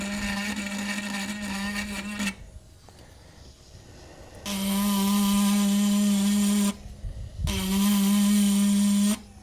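Fanttik rotary tool with its bit gouging an FDM 3D-printed part at the lowest speed setting. A close, steady high whine buzzes for two seconds, pauses, then comes back in two longer loud bursts with rough grinding texture.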